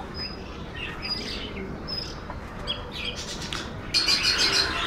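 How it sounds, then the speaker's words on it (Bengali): Racing pigeons in a home loft at dusk give repeated high chirping calls with occasional squawks, scattered over a steady outdoor background, growing busier and louder near the end with a brief flutter of activity. "ওই যে কবুতরগুলো দেখেন, এগুলো সবই রেসার কবুতর আর কি।"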